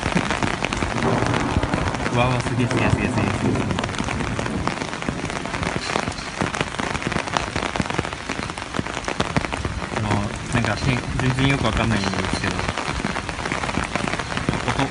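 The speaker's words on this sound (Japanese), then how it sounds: "雷来たし、はい、急に雨が強くなってきた。" Heavy rain pours during a thunderstorm as a dense, constant roar of drops hammering nearby surfaces. Someone briefly speaks over it.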